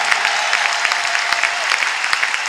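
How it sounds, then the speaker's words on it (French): Audience applause for the Lord at a Christian church teaching service, a steady continuous clapping from a crowd, fairly loud and unbroken throughout. "Give a good hand to the Lord."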